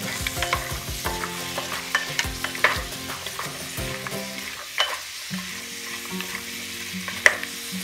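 Steady scraping and clinking of a spoon stirring grated carrots in a pan, with a soft sizzle of frying underneath; no talking.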